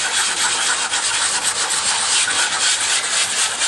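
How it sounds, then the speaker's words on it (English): Steady hand sanding with stiff 100 grit sanding belt paper, a continuous close scratchy rubbing with gentle back-and-forth strokes and no talk. "I like to do my final sanding by hand"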